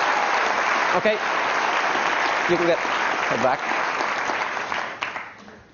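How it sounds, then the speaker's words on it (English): Applause from a theater audience for a stage volunteer at a hypnosis show, sustained broadband clapping with brief spoken words heard over it before it fades out. "Give him a round of applause as he goes back to sleep."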